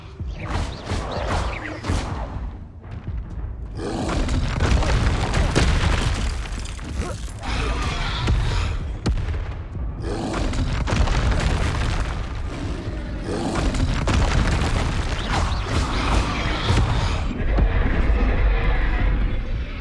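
Confringo spell explosions in the video game Hogwarts Legacy go off as repeated loud booms and roaring blasts, in clustered bursts with short lulls between them, amid continuous combat noise.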